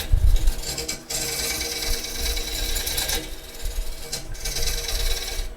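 A round nose scraper cuts the outside of a wooden bowl spinning on a lathe, giving a loud, continuous rasping hiss close by, broken by two short pauses as the tool lifts off and returns.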